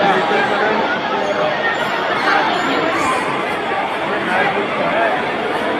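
Dense crowd chatter fills a busy Delhi hospital, the Ambedkar hospital, as many overlapping voices merge into a steady, loud babble with no pauses throughout.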